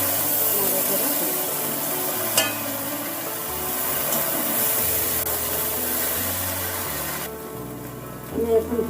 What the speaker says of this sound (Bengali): এখন একে একে soya sauce, chilli sauce, tomato sauce দিয়ে এখন আমি নাড়াচাড়া করব।